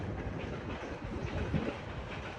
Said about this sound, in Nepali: ए ट्रेन पनि आयो त्यहाँ, आवाज सुन्छ होला है तपाईँहरूले